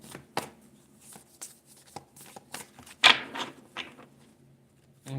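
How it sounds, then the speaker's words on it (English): Tarot cards being shuffled by hand, giving a string of soft papery riffles and taps with one louder burst of card flutter near the middle, close and quiet, with no talking. "I'm going to shuffle a little bit more."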